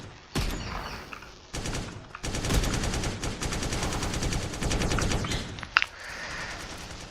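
Gunfire in a shooting video game: dense bursts of rapid automatic shots come in several strings with brief gaps, close and crisp, with a sharp click near the end and no talking.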